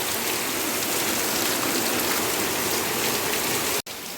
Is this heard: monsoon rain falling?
yes